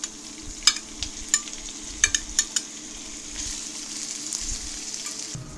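Onion and pork belly sauté quietly in a pan for Ilocano-style igado, a soft sizzle running underneath while a utensil clicks and taps against the pan in a scattered series of sharp strokes, growing slightly louder toward the end.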